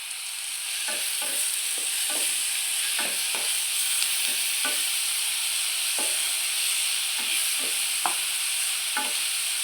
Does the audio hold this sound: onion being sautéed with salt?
yes